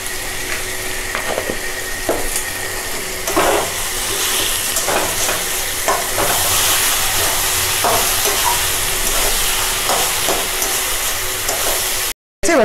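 Bottle gourd and prawn curry being stirred in a wok, a steady loud sizzle and hiss of frying with repeated scraping clatters of the spoon against the pan, ending in a brief cut.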